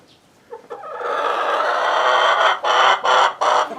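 A flock of about eight hens clucking and squawking continuously at close range on a homestead, busy overlapping calls with a few short pauses near the end.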